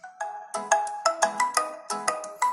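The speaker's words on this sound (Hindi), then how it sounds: "ये इसका डिफॉल्ट रिंगटोन है जो कि बहुत ज्यादा इरिटेटिंग है" A Poco M2 Pro phone's default ringtone plays a quick, bright repeating melody of short plucked notes, clear and close with no talking.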